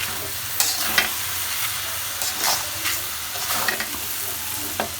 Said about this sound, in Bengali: আমি এখানে চালটাকে সুন্দরভাবে ভেজে নিচ্ছি